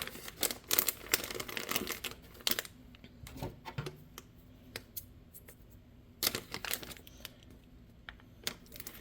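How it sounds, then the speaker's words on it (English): Scissors snip along the top of a plastic Kitten vs Gherkins blind bag, giving a run of sharp close cuts mixed with crinkling packaging and faint taps, no voices. "Just going to cut along the top here so we don't damage anything on the inside"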